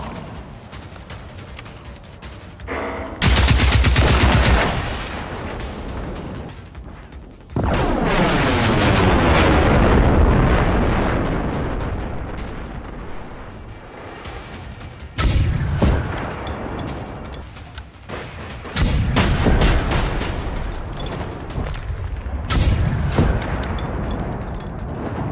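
Heavy gunfire in the open-world shooter Generation Zero booms in loud bursts and rolling volleys, with long echoing tails between the shots.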